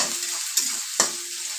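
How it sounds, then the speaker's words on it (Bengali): Chopped onions sizzle and fry in a hot pan for a Bangladeshi-style laitta fish dish, with a steady close sizzle and two brief stirring scrapes, no voices. "পেঁয়াজটা আমি একটু ভেজে নেব"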